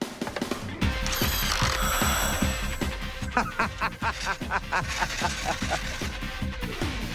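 Rapid ratchet clicks and mechanical tool noises from changing a car wheel, coming in dense bursts of clicking that start, pause briefly and pick up again through the whole stretch, close and fairly loud.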